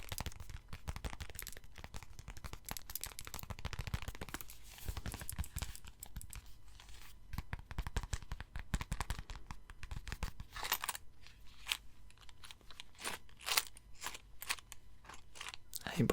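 A wallet holding a few coins is handled up close in an ASMR-style setting, giving crisp crinkling, rustling and clicking bursts that repeat irregularly.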